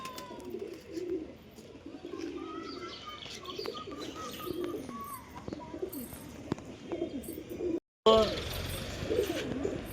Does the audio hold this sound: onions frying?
no